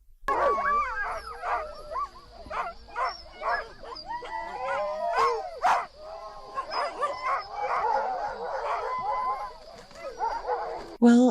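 Greenlandic sled dogs bark, yip and howl in a lively chorus, overlapping calls rising and falling throughout at moderate distance, with a few sharper barks standing out; no one speaks.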